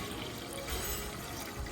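Water pours steadily into a pot of washed chicken set to boil, a continuous close, fairly quiet rushing splash with no talking.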